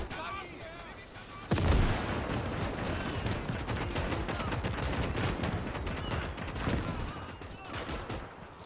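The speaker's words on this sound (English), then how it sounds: "I can definitely hear 2 mortars." Mortar shells and gunfire erupt in Call to Arms: Gates during a 1944 Soviet advance battle, with a sharp loud impact early on, then continuous rapid shots and distant booms; speech is present.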